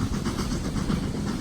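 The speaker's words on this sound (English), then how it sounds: "many of the closed lines are now used to run historical preserve trains, like this one I rode on not too long ago" A preserved historical train runs along a closed railway line, giving a steady, loud rumble with clattering wheel noise and no break in the sound.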